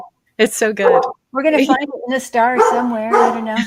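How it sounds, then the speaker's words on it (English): A dog barks and yips in short bursts mixed in with overlapping conversation, the barking moderately close and partly masked by several voices. "I don't know if you can hear my dog barking"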